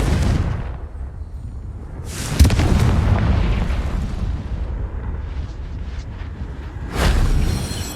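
Confringo fire-spell blasts from the Hogwarts Legacy video game: a loud booming burst at the start, another heavy explosion around the middle with a rumbling tail, and a final sharp blast near the end.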